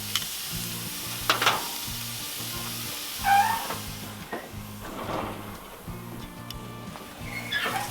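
A steak sizzles steadily on a hot Monument Grill for fajitas, a continuous frying hiss with a few louder crackles and clanks from handling, and a low rhythmic hum in the background.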